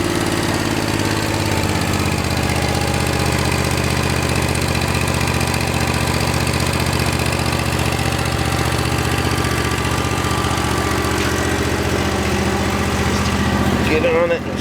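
A Power Trac tractor engine idles low with a steady, even chugging hum that runs nearby for the whole stretch and is unbroken until a brief shift at the very end.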